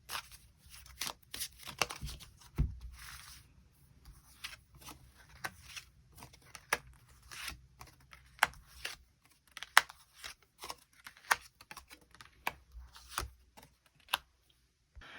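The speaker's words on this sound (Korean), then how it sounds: "추가 카드 뽑아보도록 하겠습니다" Tarot cards are shuffled and drawn in a quiet room, giving soft, irregular papery slaps, flicks and rustles scattered close by with no voice over them.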